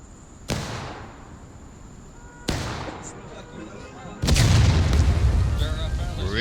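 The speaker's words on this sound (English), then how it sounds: "Real close now on the cannon shots." Three heavy cannon booms in a Civil War video game battle at a river bridge, each sharp and loud with a trailing rumble, spaced a couple of seconds apart, the last nearest and strongest.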